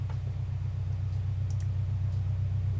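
Steady low engine drone from a car in the racing game Live for Speed, loud and continuous with a faint rhythmic pulse and a couple of brief high clicks, no voices.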